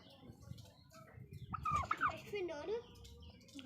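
Turkeys gobble in a rapid, warbling burst near the middle, fairly close, with faint clucking and background noise around it.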